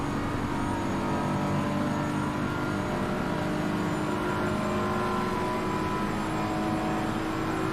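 Race car engines droning in a sim racing endurance event at Watkins Glen, a BMW against a Ferrari, with a continuous loud hum that stays steady throughout and no voices.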